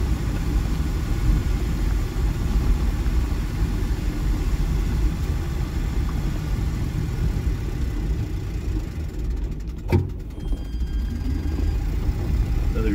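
A Tesla-powered 1976 MG Midget electric car drives along with a steady low rumble and road noise, and a single sharp knock or bump is heard near the end.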